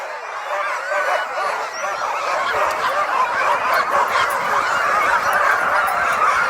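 Many sled dog teams bark, yip and whine together in a dense, continuous chorus at the mass start of the 2020 Willow 300 race, a steady crowd of near and distant voices throughout.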